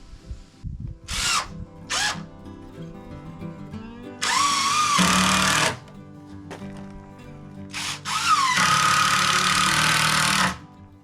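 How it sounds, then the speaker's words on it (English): Cordless drill driving wood screws into wooden 2x4 studs while reworking a wood shed: several bursts of whining motor, two short ones then longer sustained runs, loud and close, with no talking. "I'm putting these studs in with just wood screws"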